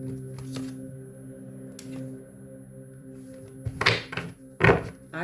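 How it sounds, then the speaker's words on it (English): Cards riffle and shuffle up close in a few quick bursts, with soft handling clicks and thumps between them. "Let me shuffle this. Listen, I'm shuffling, right?"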